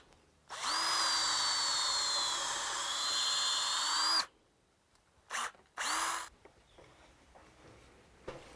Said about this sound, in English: So we're going to drill through with a 1/4 inch hole here.